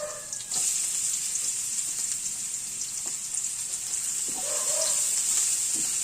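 Garlic and ginger sizzle in a pan as the base for salmon sinigang sa miso, a bright, steady frying hiss with a few soft stirring knocks scattered through it.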